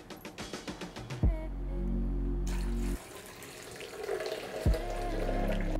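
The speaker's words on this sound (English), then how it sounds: "you put in 2 to 3 times the amount of water to that" Water is poured into a blender holding soaked almonds to make homemade almond milk, heard as a close, steady splashing pour that breaks off and resumes, after a quick series of knocks and clatters at the start.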